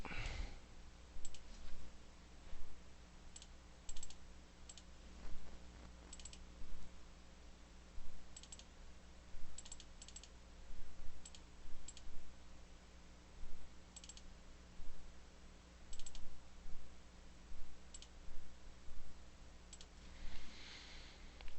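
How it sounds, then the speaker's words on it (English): Computer mouse clicks while working in Autodesk Maya 2019, faint and sparse single and double clicks spaced irregularly over quiet room tone, with no talking. "I'm just going to click over here on the color, click on file, locate it."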